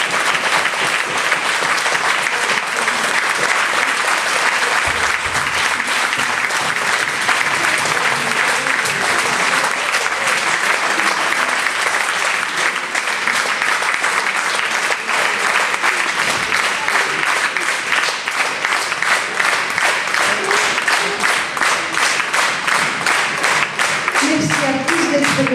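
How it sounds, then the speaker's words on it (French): Loud, dense applause from a concert audience at a benefit concert for Shanna, with clapping close and full. It holds at a steady roar for about twenty-five seconds without letting up. "Allez, plus fort les applaudissements, s'il vous plaît, le plus fort."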